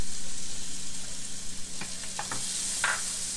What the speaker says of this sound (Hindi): अब ये बटर मेरा गर्म हो गया तो मैं इसमें प्याज डाल देती हूँ।